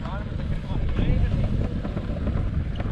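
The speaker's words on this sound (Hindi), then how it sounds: "ठंडी ठंडी हवा चल रही है" Cool wind blowing across the Sarfaranga cold desert near Skardu under a cloudy sky, a steady rushing buffet over the microphone with low rumble throughout.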